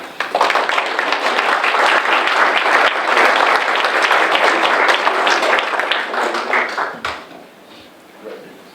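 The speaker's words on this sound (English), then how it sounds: "Round of applause." A city council chamber audience gives loud, close applause after a swearing-in of officers, with sharp individual claps throughout, fading out around seven seconds as a voice begins.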